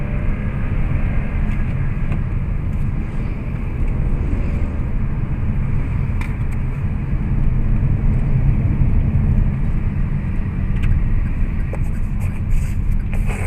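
A Daihatsu Rocky turbo car accelerates on a test drive, its engine and road noise forming a loud, sustained cabin rumble mixed with wind buffeting, building slightly in intensity across the stretch, with no talking.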